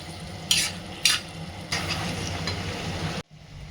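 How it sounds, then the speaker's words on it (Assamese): Chicken pieces frying with masala and potatoes sizzle steadily in a pan as a utensil stirs them, with two sharp scrapes near the start and a longer stir afterwards before the sound cuts off abruptly. "আৰু ভালকৈ লৰাই বগৰাই দিম"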